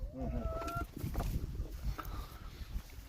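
Chickens cluck and murmur nearby in a village coop in winter, with a few higher calls, amid faint rustling and background noise.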